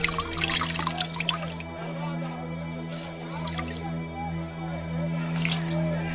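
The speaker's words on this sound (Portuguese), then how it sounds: "Lavou as mãos diante da multidão" Water poured over hands being washed, heard as drips and wet squishing splashes, busiest at the start and again near the end over a steady low hum, fairly faint.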